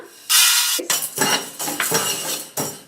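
Roasted toor dal is tipped from a pan onto a plate, giving a close, bright scraping rattle with several clinking spoon-on-metal knocks in quick succession.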